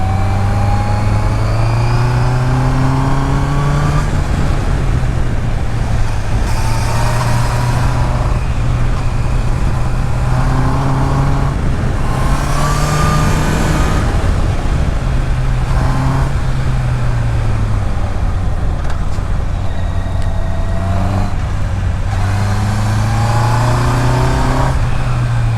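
A 2026 Honda CBR 650R with E-Clutch, a four-cylinder sport motorcycle, hums steadily while being ridden, its engine note rising and falling through gear changes under constant wind rush, loud and close throughout.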